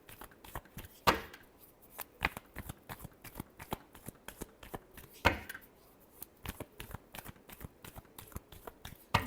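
Tarot cards being shuffled in a series of crisp riffling snaps and soft slaps, close and fairly quiet, with two louder bursts standing out among the lighter card flicks.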